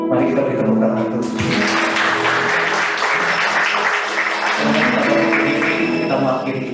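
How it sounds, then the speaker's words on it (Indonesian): Audience applause at the close of a church service, a dense, steady wash of clapping lasting several seconds over sustained instrumental tones. "Mari kita beri tepuk tangan untuk"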